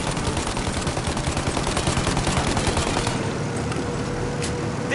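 Sustained rapid gunfire aimed at a plane's engines in the Mafia Definitive Edition video game, dense machine-gun bursts over a low engine roar, then tapering to scattered shots, no talking.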